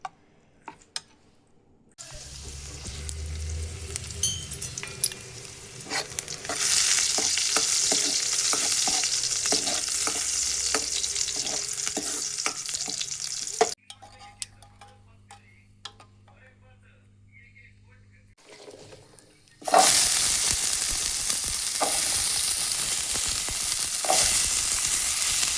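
A spice tempering for tomato saaru sizzles in a pan. Quiet clinks and scraping of stirring come first, then a low hum and near silence, and finally a sudden loud burst of sizzling.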